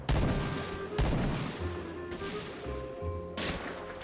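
Weapon fire in the shooter game Point Blank, several heavy, loud shots spaced about a second apart, each with a short ringing tail, close and with no talk.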